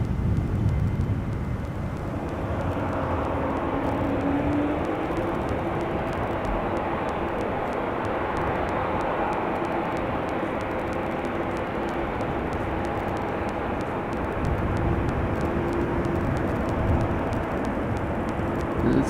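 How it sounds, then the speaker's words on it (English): A Boeing 787-10 Dreamliner at Amsterdam Schiphol Airport gives off a continuous, moderately distant engine roar that holds steady for the whole stretch. "that's a 787-10 Dreamliner."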